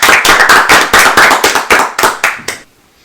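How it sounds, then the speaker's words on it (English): A small group in a podcast studio claps in a quick, steady rhythm. The claps are loud and close, and they stop abruptly after about two and a half seconds, leaving near silence. "Let's give him a round of applause on the way out."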